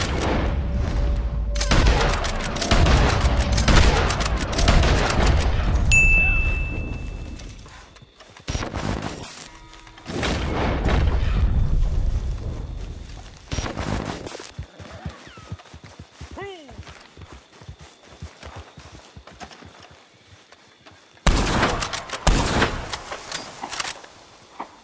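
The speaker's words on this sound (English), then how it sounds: "Why is she still shooting at us?" Gunfire in the Western video game Red Dead Online, bursts of shots and loud reports in several clusters with gaps, mixed with other game sounds and people talking over it.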